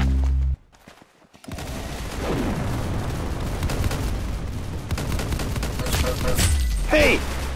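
Gunfire in the Roblox Arsenal video game, heard as a sustained dense rattle of shots and booms after a brief drop, fairly loud, with a short voice-like tone near the end.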